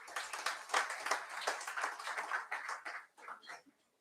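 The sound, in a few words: round of applause at MBA induction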